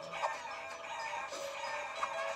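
Chickens in the video game Guacamelee cluck and squawk in short bursts over soft game music, faint and close together with no talk.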